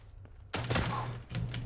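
A single M701 Super Stalker sniper rifle shot in a video game, a sudden sharp crack with a short decaying tail over a low steady hum, then a second fainter impact or mechanical clack.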